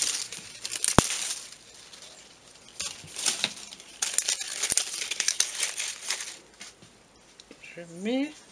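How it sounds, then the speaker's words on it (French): Dried cinnamon leaves crinkle and crumple by hand close up for a smudge stick, in soft irregular crackling bursts with a brief sharp tap. "Là, je mets des feuilles de cannelle."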